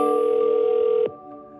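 Phone ring tone on an outgoing cold call for wholesale real estate, a steady electronic tone with harmonics that holds loud for about a second and then cuts off abruptly, leaving a faint hum.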